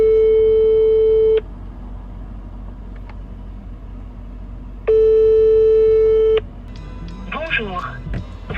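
Two long ringback tones on a French phone call, each about a second and a half, separated by a pause with low car-like rumble underneath, before a voicemail greeting; faint chirpy sounds near the end.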